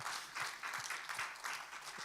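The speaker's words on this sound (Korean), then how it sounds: "우리 하나님께 감사와 영광의 박수 올려드리겠습니다" Congregation applause during a Korean church sermon, faint and slightly distant, with a loose rhythmic pulse of clapping that continues briefly without voices.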